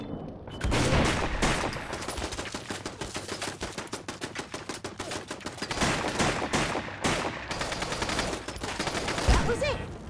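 Rapid automatic gunfire in the video game Fallout London, a sustained dense burst of shots filling the whole stretch, loud and close, with a voice briefly audible at times.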